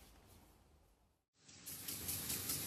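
Spray polyurethane foam insulation hisses from a spray gun onto a surface, a steady broadband spray that cuts out for a moment, then resumes louder and closer and carries on to the end.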